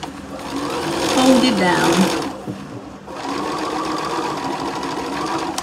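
Sewing machine running steadily while stitching a Christmas tree fabric pouch, its loud mechanical whir continuing under a woman's speech, with a short pause near the middle before stitching resumes.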